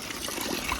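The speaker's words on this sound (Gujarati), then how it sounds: "જો આમાં પહાડમાં પાણી આવે જો." Cold mountain stream water trickling and flowing in a hilly area of Kashmir, a steady, close, moderately quiet burble.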